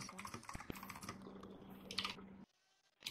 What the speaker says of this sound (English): Mute your mic if you're typing.